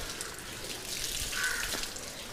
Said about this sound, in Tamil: மூணாவது முறை தண்ணியை கொப்பளிங்க.